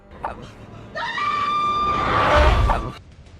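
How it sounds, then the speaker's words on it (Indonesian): A woman's long, loud scream from the kitchen in the 2013 horror film Mama, rising sharply and sustained for about two seconds over a dark, rumbling film soundtrack before cutting off. "Lalu Victoria yang mendengar ada suara teriakan seseorang dari dapur"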